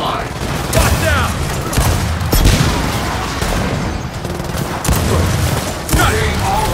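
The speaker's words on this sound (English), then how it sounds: "Shooting all lawful targets." Bursts of rapid gunfire crackle and boom in the Gears of War 4 video game, several loud volleys spaced a second or so apart over a continuous rumble of combat noise.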